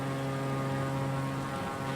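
A propeller aircraft engine in PUBG drones with a steady, loud harmonic hum that holds an even pitch throughout, with no voices.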